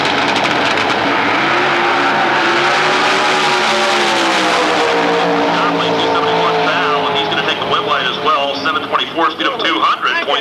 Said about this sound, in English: Lawrence Conley ready to run with the twin turbo Chevrolet Camaro out of Texas on the Goodyear lane